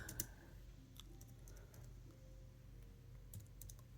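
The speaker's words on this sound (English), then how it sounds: "Let me type this tab, though." Keys clatter on a computer keyboard in quick irregular bursts, fairly close and moderately loud, over a low steady room hum, with no talking.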